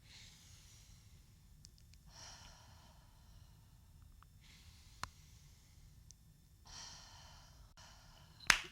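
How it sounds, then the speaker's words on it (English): Gentle breathing exercise during a pregnancy birthing-ball session, drawing air in through the nose and out through the mouth: three slow, soft, airy exhalations at a steady pace, close and quiet, with a couple of small clicks and no talk. "we're just going to ease up by doing some gentle breathing exercises"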